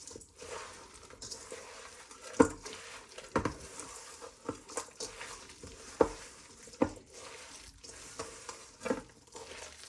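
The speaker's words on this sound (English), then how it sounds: "So we just take our hand in here and just mix all of this around." Hands squelching through a raw cilantro coconut mango chicken meatball mixture in a bowl, a steady wet mushing with irregular soft slaps and squishes, close up and with no talking.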